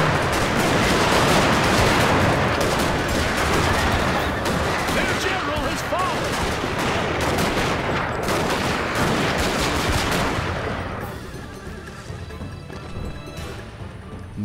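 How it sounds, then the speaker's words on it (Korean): Dense, rapid musket volleys crackle in the Total War: Shogun 2 strategy game, with US Marines fighting Ming rocket cavalry, loud and continuous before thinning out near the end. "총소리 갑자기"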